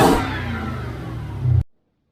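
Supercharged car engine building under acceleration with a steady blower whine, rising to a louder surge near the end before cutting off abruptly.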